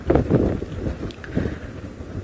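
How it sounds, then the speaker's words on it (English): Strong gusting wind buffets the microphone on an open safari vehicle during a sunset drive, a loud continuous broadband roar that surges and dips throughout. "I can actually not even hear the sound of my own voice right now. That's how the wind is gusting."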